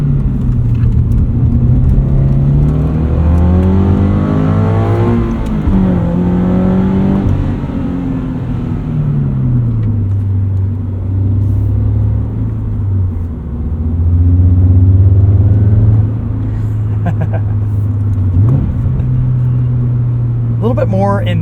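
Subaru BRZ engine heard from inside the cabin, its note piped in through a sound tube, with a steady drone that swells, rises and falls through revs as the car drives, with someone talking over it throughout.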